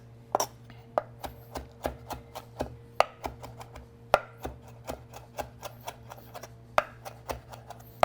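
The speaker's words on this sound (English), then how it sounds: "I'm going to use the heel of my knife and I'm going to go through the basil like this" Knife heel rapidly chopping a large pile of fresh basil on a cutting board while making an egg bake, sharp close taps in an irregular steady rhythm of roughly two per second, with a low constant hum beneath.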